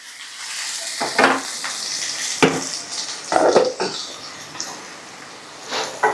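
Ivy gourd (dondakaya) curry sizzles steadily in a pan, with a few louder scraping bursts from stirring and clinks of a utensil against the pan.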